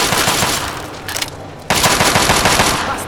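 Rapid, loud shotgun blasts in the video game Fallout 3, a dense burst of gunfire with a brief lull before more firing resumes, with no talking.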